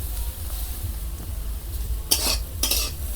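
Lentils fry in a kadai with a low, steady hiss, broken by two sharp scraping strokes of a spoon against the pan late on; no one talks.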